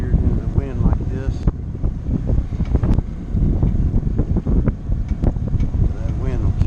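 Wind buffets a microphone aboard a sailboat, a rough continuous roar close up, with a voice talking over it.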